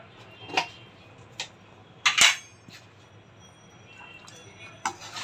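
Spices, including radhuni powder and garam masala, being stirred in a cooking pan over heat: a few scattered utensil clinks and scrapes against the pan, close but sparse, with a quiet background.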